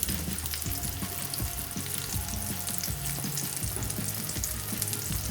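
Salmon patties fry in a pan with a steady, close sizzle and crackle of hot oil that keeps going without a break, with no voices.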